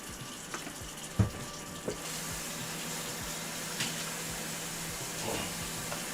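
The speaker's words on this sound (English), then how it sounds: "I'm going to wash my hands" A kitchen sink tap runs in a steady, moderately quiet stream while hands are washed under it, with a few soft knocks and splashes breaking the flow and no talking.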